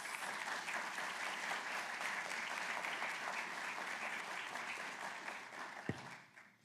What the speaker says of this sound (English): Now let's give all of them a round of applause.